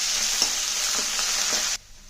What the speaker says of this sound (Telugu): మిరపకాయ దీనిలో కరివేపాకు ఉల్లిపాయ వేసి బాగా బ్రౌన్ కలర్ వచ్చిన దాకా వేయించిన